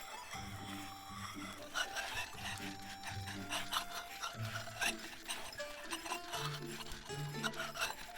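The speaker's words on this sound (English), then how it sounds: "You're grinding ink, not sharpening a knife." An ink stick ground on an inkstone in the video game Love and Deepspace, a steady close rubbing rasp that pulses in repeated strokes over several seconds beneath soft background music.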